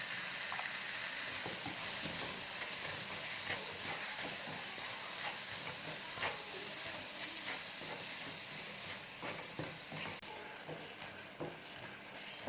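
Vegetables frying in a pan as part of a lasagna recipe, a soft continuous sizzle and hiss with faint stirring clicks, fairly quiet and steady throughout.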